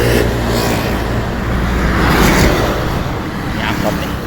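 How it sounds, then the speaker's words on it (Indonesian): An angkot minibus rumbles loudly past on a busy road, its engine and tyre roar mixing with steady traffic noise close by. "Ini angkot nih, angkot ini ke Cipari"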